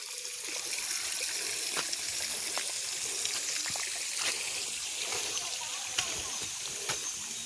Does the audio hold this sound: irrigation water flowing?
yes